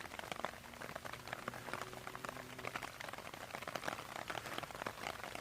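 Steady rain patters on a woodland wild camp, a dense, even hiss of drops with scattered sharper taps on nearby surfaces, continuous from start to finish with no voices.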